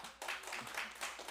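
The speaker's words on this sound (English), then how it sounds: "Definitely deserves the applause for that." Brief applause from a township council meeting audience, a burst of dense clapping that swells and thins over about a second with a faint voice murmuring underneath.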